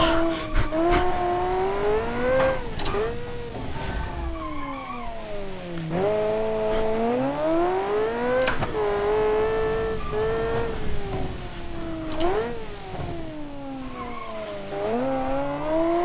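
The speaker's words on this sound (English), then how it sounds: "Very satisfying blipping, and I really like the engine model." A simulated car engine in the BeamNG video game, paired with an engine built in Automation, revs loudly and close up, its pitch repeatedly climbing and dropping through throttle blips and gear changes, with no talk.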